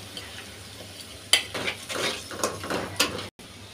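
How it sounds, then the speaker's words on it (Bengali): Garlic and onion frying in a pan for a Bengali fish dish, with a faint sizzle under repeated scraping and clattering stirring strokes of a utensil against the pan, fairly close. "সামান্য একটু ভেজে নিই রসুন আর পেঁয়াজ।"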